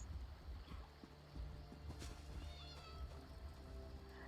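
A cat in The Elder Scrolls Online gives a few soft meows over a busy outdoor game ambience with low rumbling and scattered clatter, with no talking.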